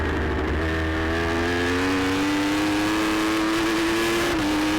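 Open superbike engine at an AFM 2013 road race, screaming loud and close as it runs hard at high revs, pitch climbing steadily through a long pull with no one speaking.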